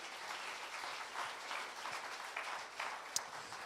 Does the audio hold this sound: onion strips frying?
no